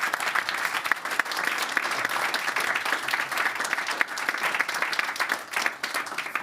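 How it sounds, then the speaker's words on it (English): Audience applause closing an AI and sustainability panel in Davos, dense, continuous clapping from a roomful of people, steady and fairly loud throughout. "let's give everyone a round of applause"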